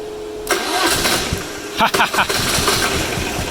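Arctic Cat 700 diesel quad being started after recommissioning: a short whirring crank, then the engine catches and settles into a steady, loud idle nearby while a person speaks over it.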